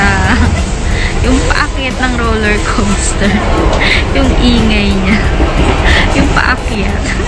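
A train running on rails, a loud steady rumble and rattle with rising and falling squealing wheel tones that sound like a roller coaster climbing, close and continuous.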